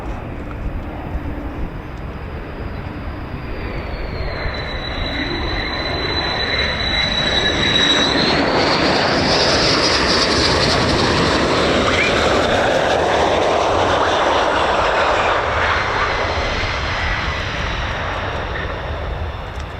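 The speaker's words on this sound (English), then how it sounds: "Using the aero braking there, aero landing" A US Air Force F-15 fighter jet lands at RAF Lakenheath with aerodynamic braking, its loud engine whine rising into a broad roar that swells and holds as the jet rolls past nearby.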